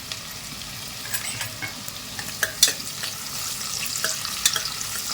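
Cumin, black pepper and onion fry together in a hot pan, a close, crackling sizzle broken by clinks and scrapes of stirring that grow busier toward the end.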